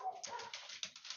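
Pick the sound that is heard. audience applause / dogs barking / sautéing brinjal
dogs barking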